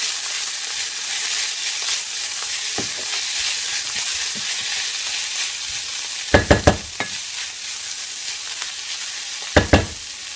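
Tomato paste fries in a pan with a steady, soft sizzling hiss. A few sharp clicks of a utensil against the pan break through it, with a cluster near the middle and another near the end.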